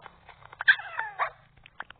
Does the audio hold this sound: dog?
yes